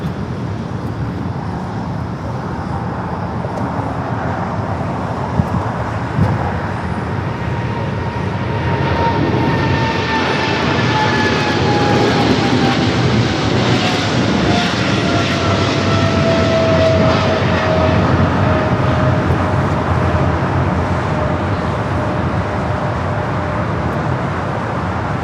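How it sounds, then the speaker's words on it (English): Kalitta Air Boeing 777-300 freighter conversion taking off at Los Angeles International Airport, a steady, loud jet roar that swells after a few seconds, with descending engine whine tones sliding lower as the aircraft climbs away. "That was Coletta Air Flight 214 taking off on that 777-300 freighter conversion."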